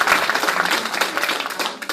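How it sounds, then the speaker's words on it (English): Audience applause at a church gathering, a brief burst of dense, even clapping from a crowd that carries on steadily for a couple of seconds. "Let's give an applause to Reverend Pope"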